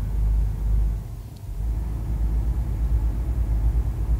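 A Scania truck climbs a road on the route from Belo Horizonte to João Monlevade. Its engine gives a deep, steady rumble that dips briefly and then builds back with a throbbing, loud low drone.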